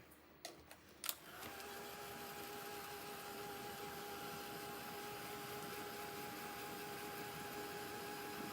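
A blow dryer dries a freshly painted pin, starting after a few clicks and handling knocks and then running as a steady, close whooshing drone with a faint whine, no speech.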